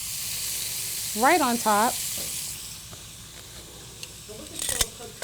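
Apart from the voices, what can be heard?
peppers sizzling as they are added to green beans in pan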